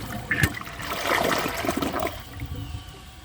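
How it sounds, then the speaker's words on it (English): A Project Source high-efficiency toilet flushes with a rush of water that swirls and drains, then fades into a softer trickle as the tank refills. "So I'm going to give it another flush and see if it can take the rest of that stuff."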